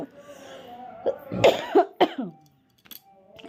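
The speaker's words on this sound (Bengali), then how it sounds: "প্রচণ্ড কাশি হয়েছে" A woman coughs several times in a harsh burst, then goes quiet for a moment before a faint throat sound, close to the microphone.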